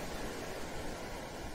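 Sea waves washing in a continuous, soft, even hiss of surf, faint and steady with no distinct breaks, no one speaking over it.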